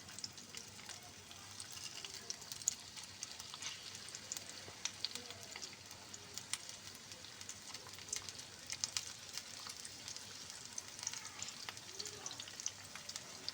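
Washed potatoes fry in hot oil with a steady, close sizzle scattered with small pops and crackles, continuing evenly throughout with no talking.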